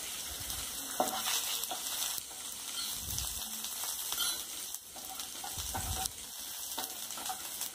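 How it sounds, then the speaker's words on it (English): Finely chopped garlic and ginger sautéing in a pan for Indian-style fried rice, a continuous crackling sizzle with occasional stirring scrapes, no voices. "Saute well."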